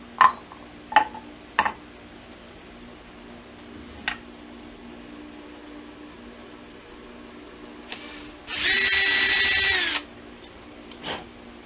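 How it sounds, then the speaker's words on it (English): A power drill whirs in one short burst of about a second and a half, close by, drilling side dot holes in a guitar fretboard, after a few sharp clicks and taps. "Drill."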